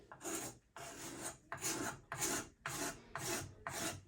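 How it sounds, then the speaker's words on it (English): A hand scraper strokes across wood, cleaning away draw knife marks, six rhythmic rasping pulls, each about half a second, separated by short quiet gaps, close and fairly soft. "So what I'm going to do now is I'll probably go to a scraper."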